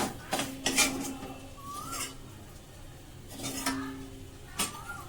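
Metal spatula (khunti) clanging against a kadai wok during home cooking in a Bengali kitchen: several sharp clinks and scrapes in two bursts, moderately near, with a bird calling faintly in the background and no talk.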